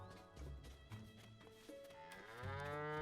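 A cow moos in the video game Zelda Tears of the Kingdom: one drawn-out, tonal, low lowing call that rises in pitch toward the end and is heard up close and alone.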